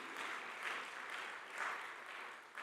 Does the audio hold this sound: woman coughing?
no